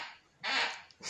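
A basic office chair with a noise problem squeaks and creaks, with a brief faint sound followed by a louder, sustained creak near the mic and a short return at the end.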